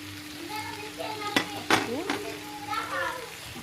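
Mushrooms sizzling softly in a frying pan, with a utensil scraping and clinking against the pan a few times, while children's voices chatter faintly in the background.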